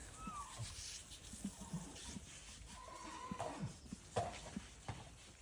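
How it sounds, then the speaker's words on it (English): A horse in a sanctuary yard squeals and whinnies in the background, with scattered hoof clops, shuffling and other farm animal noises around it. "That's Hidda still squealing in the background."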